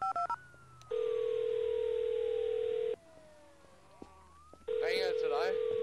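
In the Garry's Mod game, an in-game phone sounds with steady electronic tones and ringing bursts, loud and synthetic, separated by a quieter gap, with a voice briefly speaking at the end.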